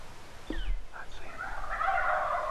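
Merriam's wild turkey gobbling from a tree in high-altitude mountain country, a brief rattling gobble at moderate distance followed by other faint bird calls over outdoor background.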